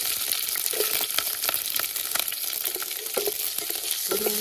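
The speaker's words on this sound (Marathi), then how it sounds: "त्याच्यात टाकायची हिरवी मिरची।" Green chilies frying in hot oil with mustard seeds in a pot during village cooking, a steady close sizzle with scattered sharp pops and crackles throughout, no talking.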